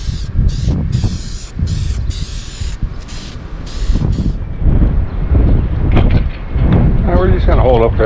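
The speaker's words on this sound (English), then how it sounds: "the wind out there is just getting treacherous." Strong, gusty wind blowing outdoors during a session of spray-priming Willys jeep rims, with broadband roaring rushes and buffeting on the microphone while people talk over it.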